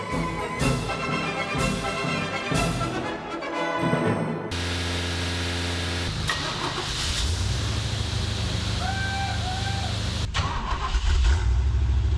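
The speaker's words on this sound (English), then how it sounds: "Oh, that was a beautiful cold start." A C4 Corvette engine cranks several times on a cold start, then catches and roars to life, settling into a loud, steady rumbling idle; the engine has an air leak.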